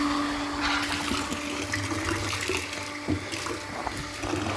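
Water pump switched on at a well, pushing water through to a shower; a steady broadband rush of flowing water with a low hum runs continuously throughout, fairly loud and close, with no talk.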